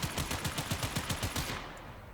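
Akjagara dual pistols firing in Warframe, a rapid run of about a dozen sharp bursty shots in quick rhythm, then a fading tail and a faint chime.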